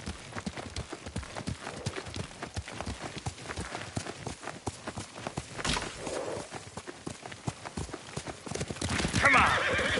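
In Ghost of Tsushima, horse hooves clip-clop in a steady walking rhythm on the ground, with a horse neighing and snorting, while characters talk over the riding.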